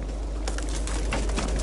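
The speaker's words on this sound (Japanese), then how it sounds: "7目目はカモメが釣れちゃった。" A seagull hooked on a fishing line aboard a fishing boat calls out in loud, close cries that repeat in short bursts over a constant low rumble.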